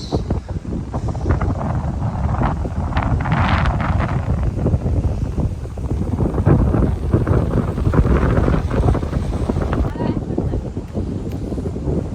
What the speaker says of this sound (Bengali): এখানে পানির যেমন স্রোত তেমন বাতাস